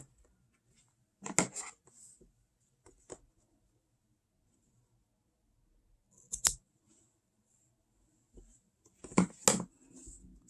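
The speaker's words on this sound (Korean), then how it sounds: "마음에 드는 모양이 나왔으면 가위로 잘라줄게요" Quiet scissor snips cutting yarn come in short clusters separated by long silent gaps, crisp and close.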